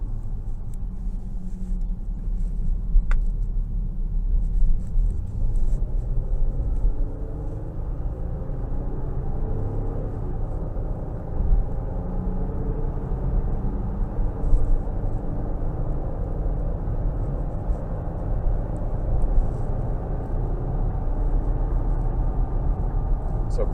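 Cabin-interior engine and road drone from a 2023 Nissan Pathfinder Rock Creek V6 accelerating in sport mode under moderate throttle, a steady low rumble that builds gently over the stretch, with no talk.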